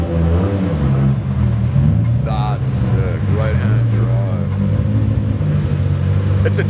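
A BMW 635 CSi drives in with a low, steady engine rumble that continues under constant chatter from nearby people.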